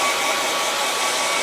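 A hair dryer blows steadily while drying hair, a loud, constant airy roar close up with no change across the short stretch.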